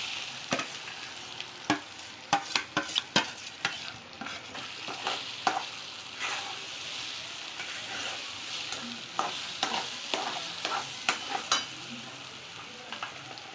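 Green chillies roasting in hot oil for besan, a gentle continuous sizzle broken by repeated sharp spatula scrapes and taps, close and fairly quiet, with no speech.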